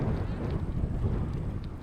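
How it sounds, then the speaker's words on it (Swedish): Wind buffets steadily outdoors on a cycling route toward Säte, a continuous low rumble with gusty microphone noise and no pauses. "Det blåser."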